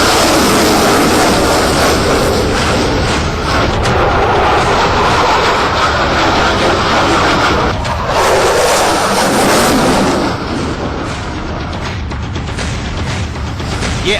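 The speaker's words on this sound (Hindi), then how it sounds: "ये अमेरिका का सबसे मशहूर लड़ाकू विमान F-16 है, जो पूरी दुनिया में अपनी धाक जमा चुका है।" An F-16 fighter jet flies at the Aero India air show in Bengaluru, a loud, broad roar that stays strong throughout and eases slightly toward the end.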